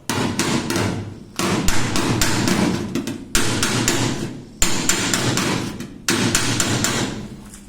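A hammer and dolly beat a 1968 Volkswagen Fusca body panel in quick, loud metallic bursts close by, grouped in five runs of rapid blows separated by short pauses.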